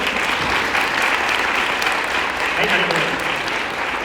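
School audience applauding, with a steady dense wash of clapping from many hands that holds evenly throughout, fairly loud and close.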